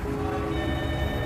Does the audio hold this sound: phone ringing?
yes